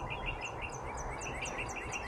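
Wild songbirds chirp steadily in a repeating, bright pattern over a constant low outdoor rumble, the calls moderately distant and no voices present.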